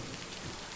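Steady rainfall in a video game, a soft, even patter of rain on surfaces, faint and brief with no voices.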